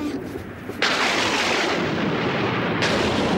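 A storm's thunder in the Highlander animated series rolls in as a loud, sustained broadband rumble that swells abruptly about a second in and holds steady with no voices.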